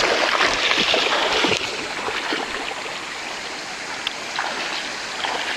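Steady rushing water of a flowing stream fills the whole stretch, a constant broad wash with small splashes, nearby and fairly loud.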